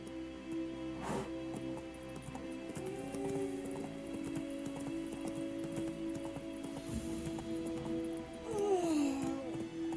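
Hoofbeats of Roach, the horse in The Witcher 3, clip-clop steadily at a moderate distance under a game soundtrack and ambient background, with a brief swell near the end.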